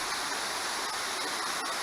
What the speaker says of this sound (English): it's a pretty neat falls.